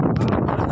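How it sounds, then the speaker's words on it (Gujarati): Strong wind on Girnar mountain in Junagadh buffets the microphone in a loud, continuous roaring rush with no one speaking over it. "એસી પાછી પડે હોય એવો પવન આવે"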